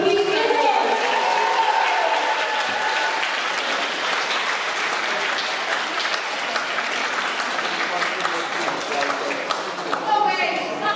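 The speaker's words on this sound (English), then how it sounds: "Let's have a big round of applause." A convention audience at a script reading delivers a long, loud round of applause, steady dense clapping lasting around ten seconds, with voices audible over it.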